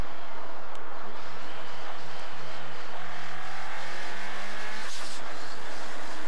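Race cars in Driver San Francisco roar along steadily, engines humming with a rising tone, one brief tire squeal or skid, continuous and loud with no talk.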